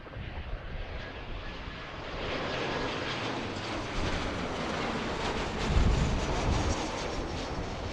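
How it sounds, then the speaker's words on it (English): An Alaska Airlines Boeing 737-900 arriving from Seattle at Philadelphia, heard from Fort Mifflin, makes a steady, broad jet roar that builds and swells toward the end, with no voices. "It's our second Alaska arrival coming in from Seattle."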